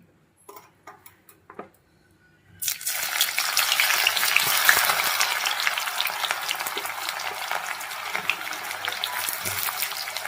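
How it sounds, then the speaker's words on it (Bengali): Onions for biryani birista drop into hot oil and burst into a loud, dense sizzle that holds steadily close by, after a few quiet clicks and knocks at the start. "আগে বেরেস্তাটা ভেজে নিই।"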